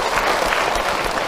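Audience applause at an Islamic sermon or religious talk, a dense, steady patter of many hands clapping close by for just over a second, with no talk over it.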